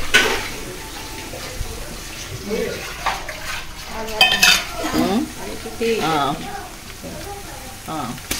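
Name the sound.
onions frying in a pan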